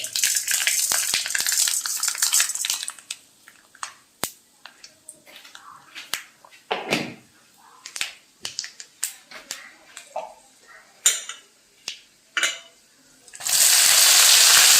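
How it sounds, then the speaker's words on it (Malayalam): Mustard seeds, dried chili and urad dal frying in hot oil, a loud sizzle at first, then scattered sharp pops and crackles of seeds bursting, before the sizzle surges again at the end. "ഉണക്കമുളക് ഇട്ടു ഉഴുന്ന് പരിപ്പ് ഇട്ടു ഇപ്പോൾ ഇത്തിരി കടുക് ഇട്ടു ഇനി അത് പൊട്ടിക്കഴിയുമ്പോൾ"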